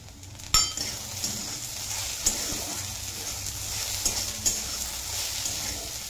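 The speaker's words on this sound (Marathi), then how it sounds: "आणि मिक्स करून घेऊ याला." Masala being stirred into okra (bhindi) frying in a pan, with a steady sizzle under repeated scraping strokes of a spoon and an occasional clink against the metal, close up and continuous.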